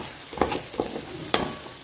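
Onion and tomato sautéing on low flame for paneer bhurji, a soft sizzle punctuated by a few scraping strokes as the mixture is pushed to one side of the pan, close up and without talk.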